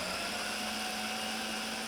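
A kitchen blender chopping up food scraps for compost runs as a steady, loud, high-pitched motor whine with a constant hum and no breaks across the whole short stretch.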